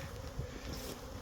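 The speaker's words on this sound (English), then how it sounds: "Hello little bees." Honey bees buzz steadily around farm hives, a dense close hum with no voices.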